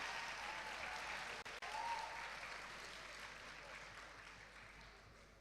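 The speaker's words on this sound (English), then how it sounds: "Come on, keep the applause going." A university film festival audience keeps up steady, fairly distant applause that slowly thins and softens; speech is faint beneath the clapping.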